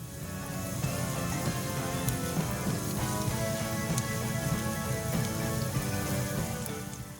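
Garlic cooks in a pan for garlic butter shrimp, giving a steady, soft sizzle like light rain that runs unbroken for several seconds with no talking.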